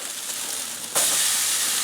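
Pork steak on a grill, a steady frying sizzle that jumps to a louder, brighter hiss about halfway through, close and continuous with no talking.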